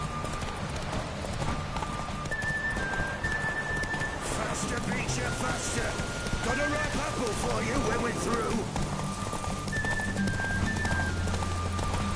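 Roach, Geralt's horse in The Witcher 3 game, clip-clops steadily throughout with whinnies and snorts, set against a dense ambient bed with faint rain and a low music drone; a voice speaks over it.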